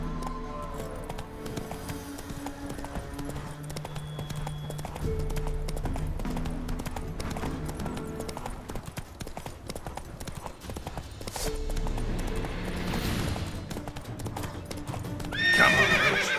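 The horse Roach in The Witcher 3 on PS4, hooves clip-clopping steadily at a gallop with game music and ambience underneath, a whinny breaking out near the end.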